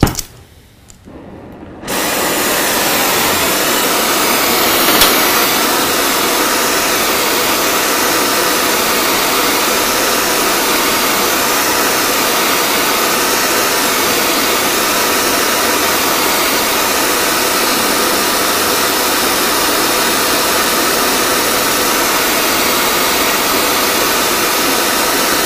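A torch flame heating a metal spline part before welding, a steady loud roaring hiss that starts abruptly after a brief pause and holds evenly without a break, with no talking.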